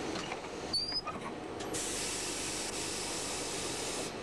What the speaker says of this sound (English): The tunnel cleaning train is a 5-car unit which operates on normal traction current